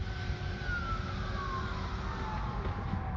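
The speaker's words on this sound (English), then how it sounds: "I'm hearing some sirens over here." A police car siren wails faintly from a distance on a Denver city street at night. The sliding tones pass behind a cruising car under a steady hum of engine and road noise.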